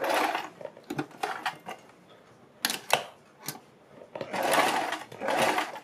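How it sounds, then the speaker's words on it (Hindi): A sewing machine stitches a kurti or suit neckline just below the buckram, short close bursts of running whir separated by clicks and pauses, all fairly quiet. "बुकरम से थोड़ा नीचे मैं सिलाई लगानी शुरू कर रही हूँ"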